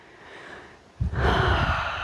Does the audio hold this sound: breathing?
yes